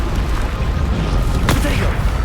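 A Bombarda spell detonates in Hogwarts Legacy, a single sharp blast midway through a dense, continuous roar of combat noise, with a voice shouting over the din.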